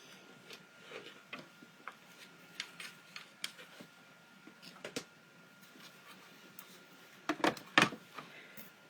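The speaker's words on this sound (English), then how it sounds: "I'm going to put this in and then run it through the machine." Faint clicking and ticking of an emboss and die cut machine being cranked on a papercraft card, soft irregular mechanical taps with a few louder clacks near the end, quiet and close.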